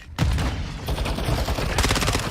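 Gunfire in Call of Duty Modern Warfare II: a dense, loud burst of rapid automatic shots fills the whole clip after a brief quiet start, crackling continuously with no pause.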